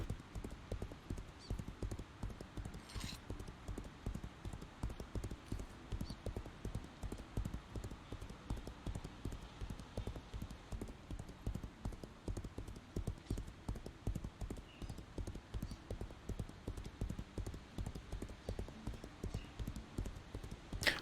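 A dread horse's hooves clip-clop in a steady, brisk rhythm across the whole stretch in the Legends of Aria video game, close and even, with no talk over them.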